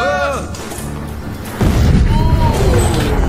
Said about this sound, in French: c'est une bombe fumigène, une explosion pyrotechnique